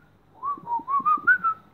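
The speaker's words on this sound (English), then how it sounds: "Blow a whistle." A short whistled tune of about six gliding notes rises and falls, clear and close with nothing else around it.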